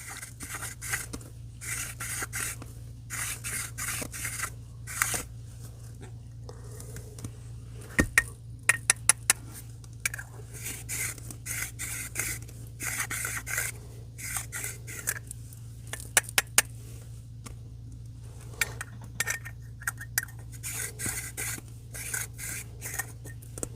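A cannabis herb grinder stuffed full and turned by hand, with a magnetic lid, making soft continuous grinding and rubbing with scattered tiny clicks over a low steady background hum, close up and with no talk.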